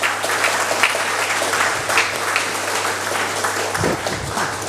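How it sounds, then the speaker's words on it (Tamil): An audience at a school ceremony honouring high-scoring students claps to open the celebration: continuous, full applause from a large hall crowd, steady and fairly loud, over a low mains hum. "ஒரு கைத்தட்டலோடு ஆரம்பிக்கலாங்களா?"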